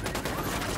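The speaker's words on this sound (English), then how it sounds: "Opening fire" Sustained automatic gunfire from a Ghost Recon Wildlands firefight, a dense, continuous burst of shots with no pause across the short moment.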